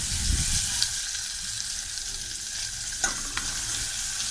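Mustard seeds, curry leaves, asafoetida and coriander sauté in a spoonful of hot oil for a Malvani sweet dal tempering, a soft steady sizzle with a few sharp crackles and spatula scrapes near the end.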